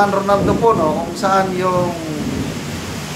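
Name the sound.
heavy rain with thunder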